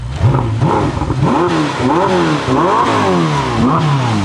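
Tuned 1200 hp Ferrari SF90 engine revving hard, with loud repeated rising and falling sweeps of engine pitch in quick succession and no talking.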